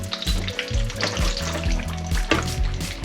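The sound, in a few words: almonds toasting in frying pan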